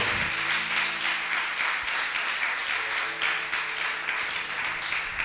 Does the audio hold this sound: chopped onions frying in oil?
no